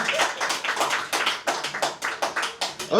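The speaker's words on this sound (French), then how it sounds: "Des applaudissements." Audience applause following a song at a French-language live performance, a steady patter of many hands clapping at close range, continuous and fairly loud without pause.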